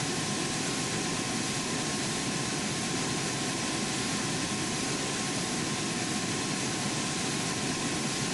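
Steady, loud roar of a jet airliner's engines during takeoff at Orlando International Airport, with a broad rushing noise holding constant throughout and no distinct breaks.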